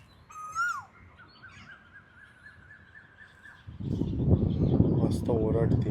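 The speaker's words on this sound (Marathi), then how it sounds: "आणि इकडे कोकिळा ओरडते मस्त एकदम" An Asian koel calls from trees in the Konkan countryside near sunset: one clear rising call, then a steady run of repeated notes, before a voice starts talking loudly over the birdsong.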